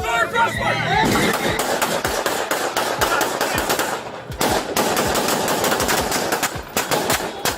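Rapid gunfire bursts during a police standoff, loud and close, with dense clusters of sharp cracks and brief gaps, mixed with shouting voices.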